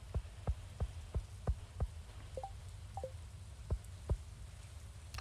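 Rain falls in the secret woods of the Stardew Valley video game as a soft, steady hiss with evenly spaced low dripping thumps and a couple of faint chirps, with no voices.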